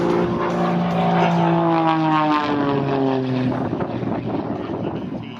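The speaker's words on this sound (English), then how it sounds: "this aircraft is a fully capable aerobatic airplane" An Extra 300 aerobatic propeller airplane flies at an air show, its engine a loud, steady droning roar with a falling pitch as it passes by, continuous throughout with no talk.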